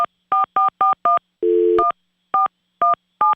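A telephone being dialed to call a radio contest winner gives a crisp series of evenly spaced touch-tone beeps, briefly interrupted by a single longer lower tone, then more beeps, loud and close with no talking.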